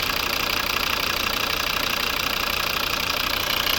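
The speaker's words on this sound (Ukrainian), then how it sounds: "Ось робота двигуна." A steady, continuous idle of a 2011 Volvo V50's 2.0-litre five-cylinder D4 diesel engine up close, with a constant rumble and faint knocking rhythm throughout, no voices.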